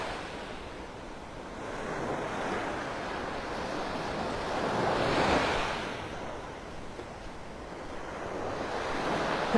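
Ocean surf washes up on the beach at Delnor-Wiggins in North Naples, Florida, a continuous hiss that swells and recedes with each wave, with some wind rumble. No one speaks.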